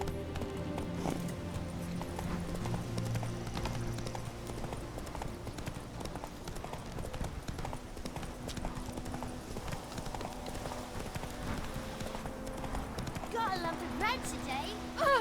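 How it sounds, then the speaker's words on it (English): Hoofbeats of the horse Roach galloping in The Witcher 3 game, a steady rapid clip-clop running throughout beneath game sounds and occasional talk, fairly quiet and continuous. "Run, Roach."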